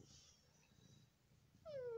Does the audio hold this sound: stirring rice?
no